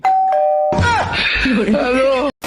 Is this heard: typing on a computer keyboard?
no